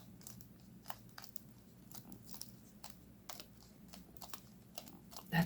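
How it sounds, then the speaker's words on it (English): A resin coaster is pulled from its mold with a quiet series of small crackling, crunching snaps, irregular and close, ending in a slightly louder pop. "That satisfying demolding crunch."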